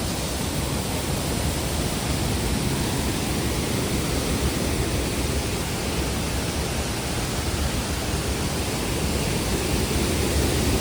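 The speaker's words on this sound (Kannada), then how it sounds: "ನಾವೀಗ ಇದ್ದೀರಿ ಅಬಿ ಫಾಲ್ಸ್" Abbi Falls in heavy rain, a waterfall with strong flow, roars as a steady, loud, broadband rush that holds unchanged throughout with no voices.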